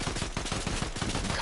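Rapid gunfire in the video game Fortnite crackles in a quick, dense burst of repeated shots, moderately quiet and close, with no talk over it.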